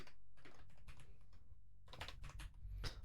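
Keystrokes on a computer keyboard come in irregular bursts of quick, close clicks with short pauses, played over a steady low hum, while notes are written out during a Commodore Amiga puzzle game session.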